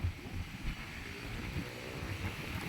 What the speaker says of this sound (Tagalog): Malakas ang hangin. Ayan, mahangin, oh.